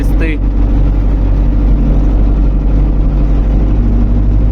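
A vehicle creeps slowly along a wintry road with a steady, loud, low engine drone and rumble, and a brief voice at the very start.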